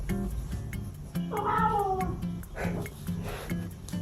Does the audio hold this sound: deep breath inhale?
no